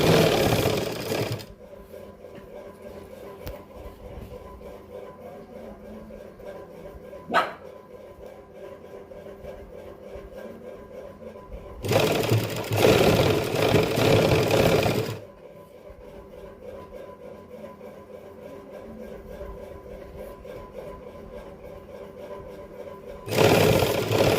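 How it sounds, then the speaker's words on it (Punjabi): Sewing machine stitching lace onto a summer suit, with three bursts of rapid mechanical whirring separated by long quieter pauses, close and loud. "ਤੇ ਸਲਾਈ ਲਾ ਦਾਂਗੇ ਇਸ ਤਰੀਕੇ ਨਾਲ ਲੈਸ ਨੂੰ ਕਰੀ ਜਾਵਾਂਗੇ"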